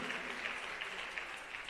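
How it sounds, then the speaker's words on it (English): A crowd at a scholarship awards ceremony applauds in a steady, even patter of many hands clapping at moderate volume, with no voices over it. "keep the applause coming"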